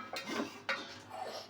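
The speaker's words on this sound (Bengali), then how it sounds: "তবে ঢাকনাটা খুলি" Lid lifted off a pot of homemade curd set overnight, giving a couple of close metallic clinks and scrapes against the rim, with a soft rattle in between.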